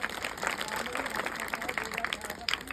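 A crowd at the inauguration of a Buddha katha gathering claps vigorously and continuously, with voices and some tonal background sound mixed into the applause.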